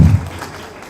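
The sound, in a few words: audience applauding dancers at a drama festival workshop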